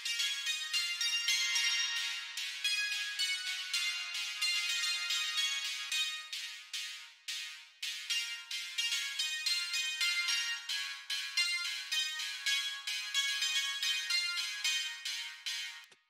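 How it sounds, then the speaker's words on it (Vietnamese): A solo high-frequency band of music run through convolution reverb in the Footy Convolver plugin, giving a bright, thin, shimmering stream of rapid tones with no low end and short gaps, steady and fairly quiet throughout. "Ví dụ mình sẽ cho reverb vào tầng âm cao. Chúng ta sẽ dùng cái Footy Convolver này."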